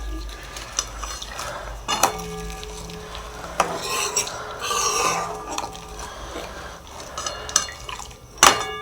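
A spoon stirring jaggery and sugar in a pan over a lowered flame, with soft sizzling under irregular scraping and several sharp metallic clinks against the pan.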